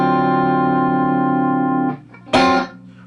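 A 7#9 chord on distorted electric guitar rings out sustained for about two seconds, then a short scratchy strum and a brief bright chord stab follow.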